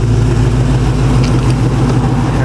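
The LS3 V8 in a custom car nicknamed Grande Juan runs at a steady, deep, docile idle, close and fairly loud, with a constant low rumble and no voices.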